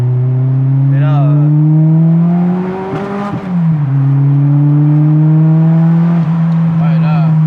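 A car with a loud, harsh exhaust revs hard in a workshop, the engine note rising steeply, easing off around three seconds, then climbing again and holding a strong, close drone.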